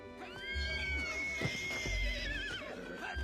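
A distressed mare whinnying over her foal, a long wavering high-pitched neigh that rises and trembles before trailing off, with low rumbling thuds underneath.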